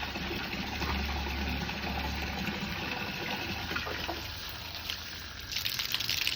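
Water gushing from an opened pipe at a fish pond, a steady broadband rush that stays even and moderately faint throughout, heard alone without talk.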